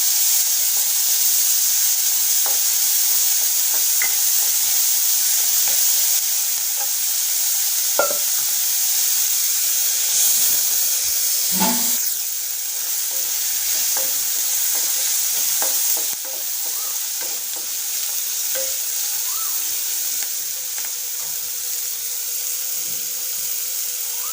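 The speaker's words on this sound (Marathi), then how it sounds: "आता आपण यामध्ये घालणार आहोत बारीक कापलेले दोन टोमॅटोचे तुकडे आणि तेही तेलामध्ये परतून घ्यायचे आहे" Chopped tomatoes, garlic and chillies sautéing in hot oil for a tomato thecha, a steady sizzle running throughout with occasional scrapes and clinks of a spoon against the pan.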